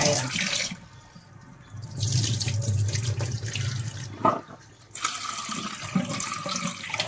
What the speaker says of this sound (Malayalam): അപ്പം ഇതിനെ നമുക്ക് വാഷ് ചെയ്ത് കഴിക്കാം